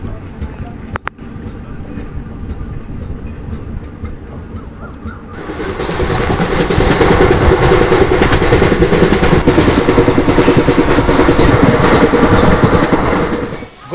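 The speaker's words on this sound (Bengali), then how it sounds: "এই মুহূর্তে ট্রেন বেরোলো ডালখোলা থেকে, মানে এর পরের স্টেশন হবে কিষানগঞ্জ।" A passenger train runs just after leaving Dalkhola station, a low rumbling roll that swells midway into a loud, steady rattle of wheels and carriages, with someone talking over the quieter opening stretch.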